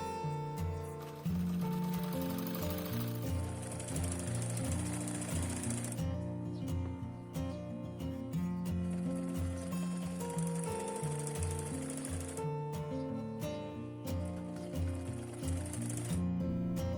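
An electric sewing machine stitches lace onto tulip pants in loud, rapid mechanical bursts, running steadily for several seconds, pausing briefly, then resuming, close up with no talking.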